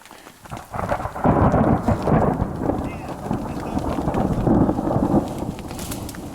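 Thunder follows a nearby lightning strike during a mountain storm along a backpacking trail, a loud rolling rumble that swells and lingers over steady rain close by.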